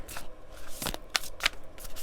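Tarot cards being shuffled by hand, a quick series of crisp riffling bursts and soft slaps, close and fairly clear.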